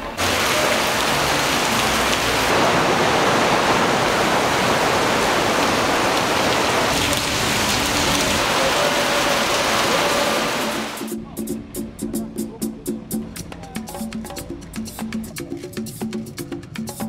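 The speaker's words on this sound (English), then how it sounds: "And then came the rain." Heavy rain in Cancún pours down as a loud, dense hiss for about ten seconds, then eases into scattered drips and patters on surfaces.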